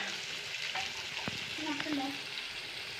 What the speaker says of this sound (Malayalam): അത് മീനൊക്കെ ഒന്ന് വറുത്ത് പോകട്ടെ